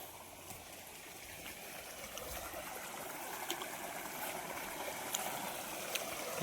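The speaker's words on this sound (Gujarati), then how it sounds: "ઓલી બીજી મોટર નું પાણી આવે છે" Water pours out from a farm pump motor in a field, a faint, continuous rushing flow that stays steady and distant throughout. No speech is heard.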